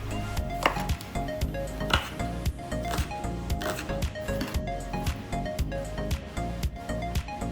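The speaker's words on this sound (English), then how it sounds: "Now that we've cut the whites of the scallion" A knife chops scallion on a cutting board in sharp, rapid, evenly spaced knocks, close and clear, with no talking.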